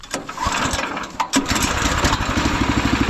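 A Predator engine swapped into a Wheel Horse garden tractor revs up after a few clunks, then settles into a loud, steady chugging run close by.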